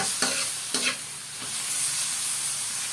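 A spoon stirs pork mechado in a pan after crushed ground pepper goes in, two or three close scraping strokes over a steady, soft sizzle.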